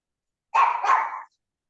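A dog gives a short, loud, double-pulsed bark right beside a microphone in a public forum, then silence.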